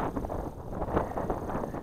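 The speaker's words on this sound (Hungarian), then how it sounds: "amúgy baromi hideg szél fúj" Cold wind gusts across a microphone on a hilltop by the calvary at Veszprémfajsz, Hungary, a rough low rumble with irregular buffeting that holds steady and close throughout.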